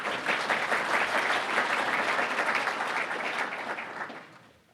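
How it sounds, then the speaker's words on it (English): Audience applause at a state of the city address, a sustained wash of many hands clapping that fades out toward the end, no speech over it. "The more you clap, the more water I can drink."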